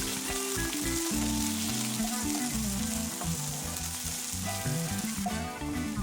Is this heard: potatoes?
yes